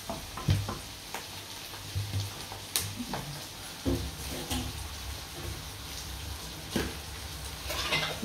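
Chopped onions and tomatoes sizzle in a frying pan, with a steady close hiss broken by irregular stirring scrapes and clinks.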